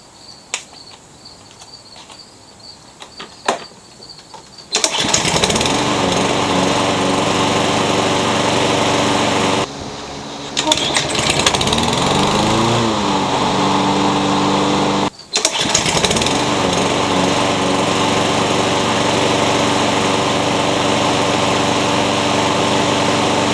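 A lawn mower engine, repaired after revving high on cold starts, runs steadily at an even, loud, close drone, with two brief drops around the middle before settling back into its smooth idle.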